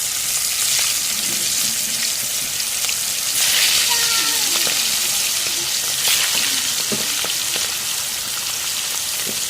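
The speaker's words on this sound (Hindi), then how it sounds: "अभी बगैर बेसन के इसको फ्राई करेंगे" Fish without a gram flour coating sizzles and crackles steadily in hot oil, a dense continuous frying hiss with occasional pops and faint kitchen clatter, with no voices.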